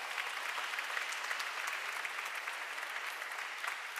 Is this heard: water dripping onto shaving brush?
no